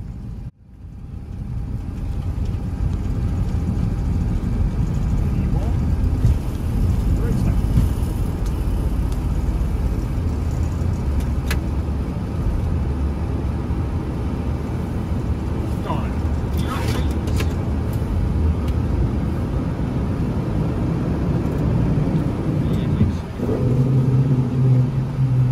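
Boeing 727 with three jet engines at takeoff thrust during the ground roll, a steady loud rumbling roar heard from inside, sustained throughout with faint cabin noise.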